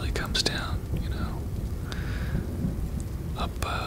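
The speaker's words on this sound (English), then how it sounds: "these Texas thunderstorms they can be pretty intense" Heavy Texas thunderstorm rain pours steadily and close, with brief thunder rumbles and sharp crackles rising over the dense downpour, alongside faint whispering.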